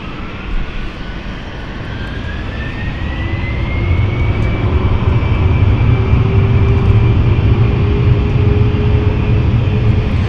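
A British Airways CityFlyer jet roars steadily as it departs London City Airport, its engine noise building over several seconds into a loud, sustained rumble with a rising whine, no voices present.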